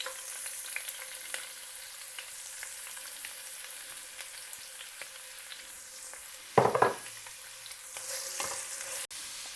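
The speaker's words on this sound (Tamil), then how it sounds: "இதில் நாம் கட் பண்ணி வச்சுக்கிற ஆனியனை சேர்த்துக்க போகிறோம்." Chopped onions fry in oil for mutton biryani, a soft, even sizzle that runs throughout, with a short burst of louder clattering and stirring near the end.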